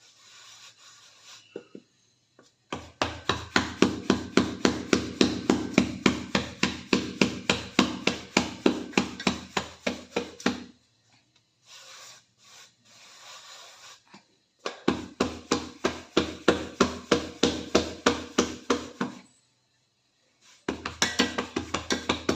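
Hands pat jowar bhakri flatbread dough on a surface in rapid rhythmic slaps, coming in several bursts separated by short pauses.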